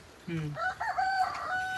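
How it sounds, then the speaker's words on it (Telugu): A chicken's short, harmonic squawking call rings out once, close and fairly clear over a quiet background. "కోళ్ళు బయటకు పోయినాయరా చిన్న కోళ్ళు"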